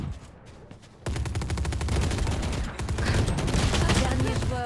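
A long, continuous burst of rapid automatic gunfire in Valorant, loud and close, starting abruptly after a quieter second and running to the end with only a brief dip, over faint background talk.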